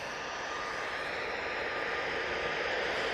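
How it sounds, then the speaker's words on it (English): Distant, steady roar of an EasyJet airliner on its takeoff roll at Manchester Airport, a broad, even rushing engine noise with a faint tonal whine, holding constant and gradually swelling slightly, no voices over it. "The EasyJet is on the roll"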